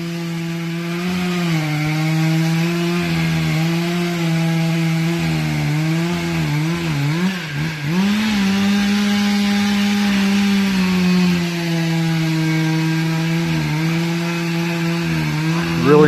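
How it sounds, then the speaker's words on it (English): A chainsaw runs steadily and loudly for the whole stretch while felling tall old timber, its engine drone holding a constant pitch with slight wavers as the bar bites through the wood. "Really enjoy cutting this tall timber."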